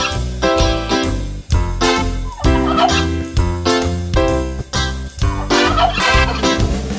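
Cartoon turkeys gobble rhythmically through a bright French children's nursery song, their calls repeating loudly in time with the music and singing.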